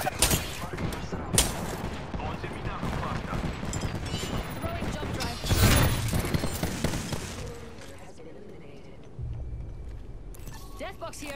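Rapid gunfire bursts crackle in a battle royale video game, dense volleys at moderate volume with a heavier blast near the middle, easing to quieter game ambience toward the end.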